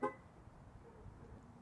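A brief electronic chirp from a Toyota 4Runner unlocking at the very start, followed by quiet low outdoor rumble.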